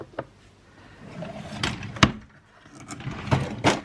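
A drawer slides open with soft wooden scrapes and a few knocks and clunks, close and fairly quiet.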